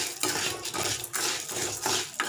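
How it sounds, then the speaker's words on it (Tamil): Black urad dal roasting in a pan while being stirred, giving a continuous dry rattling and scraping in close, steady sweeps with short pauses between strokes. "போட்டு இது நல்லா சிம்மிலே வச்சு நல்லா வறுத்து எடுத்துக்கோங்க"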